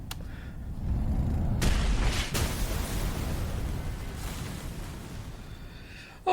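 A bomb detonates in the video game AI: The Somnium Files, a loud low rumbling blast that swells, cracks sharply, then rolls on and slowly fades for several seconds before an abrupt cut.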